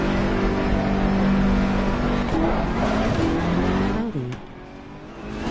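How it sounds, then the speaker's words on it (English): A Ferrari Challenge race car in Assetto Corsa Competizione leaves the pit lane at Imola, its engine droning steadily with feathered throttle and quick short-shifted gear changes, then easing off near the end. "Feathering the throttle and short shifting just on our way out of pit lane"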